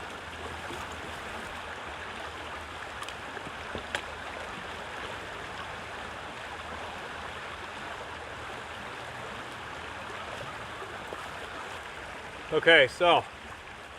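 A river flowing past a campsite makes a steady, soft wash of rushing water, faint and constant throughout. A person briefly speaks near the end.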